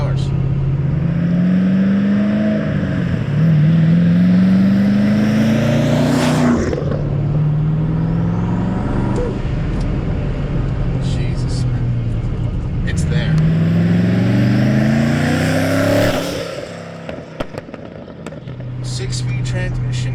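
A twin-turbo 2013 Camaro SS with over 1000 horsepower, engine rising and falling through repeated loud revs that sweep upward, with talk running over parts of it.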